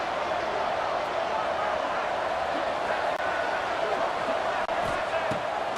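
A Boise State football stadium crowd roars during a third-down play, a dense, constant wall of loud noise that never lets up, with an announcer talking over it.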